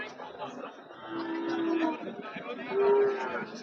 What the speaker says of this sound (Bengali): একটু সাইড করে গরুটা দেখাই রাখি